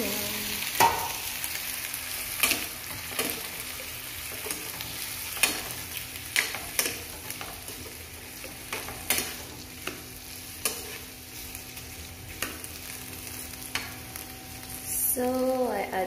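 Shrimp seasoned with black pepper and chili sizzle steadily in a pan, with repeated sharp utensil taps and scrapes from stirring over the frying hiss, close by with no speech.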